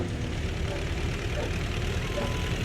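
A tractor engine running in the farming video game Farming Simulator 17, a steady, loud low droning rumble that holds evenly throughout with no pauses.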